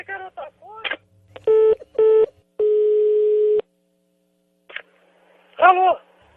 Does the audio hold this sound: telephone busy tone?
yes